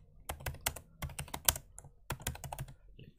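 Quick, uneven bursts of typing on a computer keyboard, crisp individual key clicks in close succession with short pauses, heard alone at low level.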